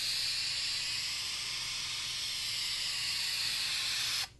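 A spray gun hisses steadily as a finish coat goes onto a pallet wood bookshelf, a close, even rush of air and mist that cuts off abruptly near the end, with no talking.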